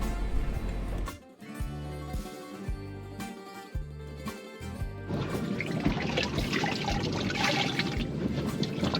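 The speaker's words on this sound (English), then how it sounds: "I want to get the bucket about half full, maybe not quite that much, but at least half full to start this rinse." Fresh water runs steadily into a bucket being half filled to rinse salt water out of laundry aboard a boat in the Keys, a continuous pouring rush that starts after a few seconds of rhythmic thumping and then stays loud and unbroken.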